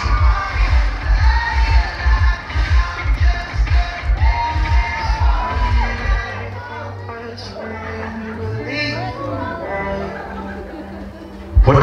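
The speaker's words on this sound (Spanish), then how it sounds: "Fuerte los aplausos." Guests at a quinceañera party clapping and cheering in a busy hall, dense rhythmic applause at first, then thinning into crowd chatter with music and voices underneath.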